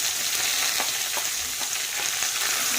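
Onions fry in a pan for brinjal curry, making a steady, close sizzle with faint scrapes of stirring scattered throughout.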